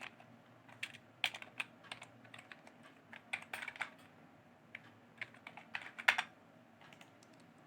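Data typed into an Excel sheet on a computer keyboard: irregular bursts of close, crisp key clicks with short pauses between, alone without talk.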